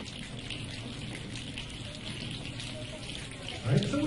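An audience produces a steady, even hiss of imitated rain, a shushing wash with no words, swelling slightly near the end as another row joins in.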